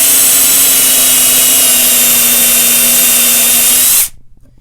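A power drill boring into a chainsaw-carved wooden bear: a loud, steady high-pitched whine runs continuously for about four seconds, then cuts off abruptly, leaving a brief quiet tail.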